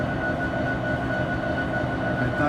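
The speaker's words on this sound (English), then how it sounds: "I thought I'd show you this train up close." Steady, loud rumble of a train close by, with a continuous low roar and a faint high tone running throughout, no voices.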